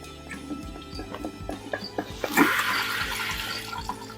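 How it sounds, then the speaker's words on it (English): Water filling into a Candy washing machine drum, a splashing, trickling inflow with scattered clicks and knocks from the machine, starting quiet and getting louder and fuller partway through. "Yes, water coming. Water take into the machine."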